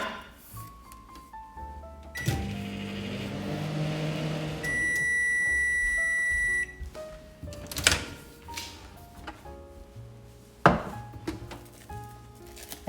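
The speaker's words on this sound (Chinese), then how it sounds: "盖上保鲜膜，放入900瓦的微波炉2分钟就可以了。" A 900-watt microwave oven heats snow skin mooncake dough under cling film: a door clunks shut, a steady mid-pitched hum runs for several seconds, a chain of electronic beeps sounds, and sharp door clicks and clatters follow. No one speaks.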